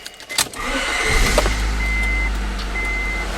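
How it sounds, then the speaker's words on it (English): A car engine cranks briefly with a few clicks, then catches and settles into a steady, low idle rumble through a leaking exhaust system that continues to the end. "Next, you want to start the vehicle up."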